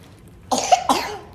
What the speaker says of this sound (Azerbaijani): Can balan öskürür.